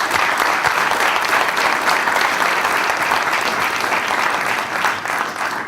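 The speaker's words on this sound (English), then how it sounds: "So I'll ask you to give a round of applause to Alan for what he has done." Sustained audience applause at a conference, dense and even clapping from a large group filling the room at a constant level throughout.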